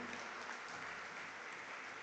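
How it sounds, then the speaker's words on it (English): Steady audience applause fills the hall at a ceremony honoring a woman who summited Everest, a dense, even wash of clapping with no voices. "I request Sura C to please rise for taking the applause from the entire audience"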